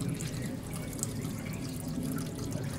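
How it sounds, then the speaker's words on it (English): Water drips onto a sculpture whose material is slowly falling apart, part of an installation at the 2015 Art Biennale. Steady, faint wet trickling and dripping sit under a noisy room ambience. "a sculpture that's actually being created by a kind of water dripping"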